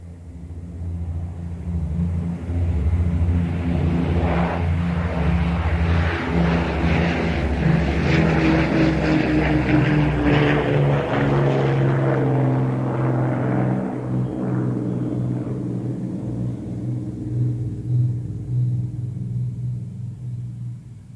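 A propeller airplane engine drones steadily and loudly throughout a radio drama scene, a deep continuous rumble with a whirring overtone that swells slightly in the middle.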